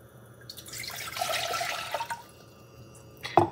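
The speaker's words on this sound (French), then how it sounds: "dans mon chaudron, je vais partir mon feu et je vais mettre l'eau froide" Cold water runs into a cooking pot over a fire, a brief splashing pour that swells and fades, followed by a few drips and a sharp clink near the end, with no talking.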